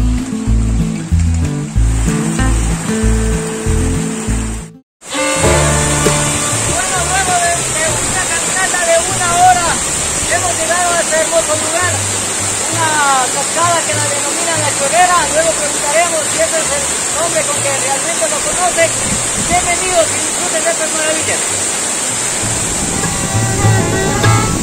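Las Cochas waterfall near Chinguilanchi in Loja, Ecuador: a steady, loud broadband roar of falling water fills the whole stretch after a brief silent cut, with some music-like tonal sounds layered over it.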